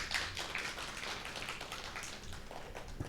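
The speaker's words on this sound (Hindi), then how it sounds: "एक बार सभी अपने लिए जोरदार ताली बजा देंगे।" A studio audience at a health-themed TV show breaks into dense, continuous applause for a few seconds, many hands clapping together at moderate loudness with no voices over it.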